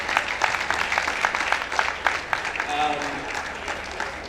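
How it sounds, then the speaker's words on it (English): Audience clapping at a company success summit, a steady wash of many hands with sharper individual claps standing out, mixed with chatter and a brief voice near the end. "clap for yourself"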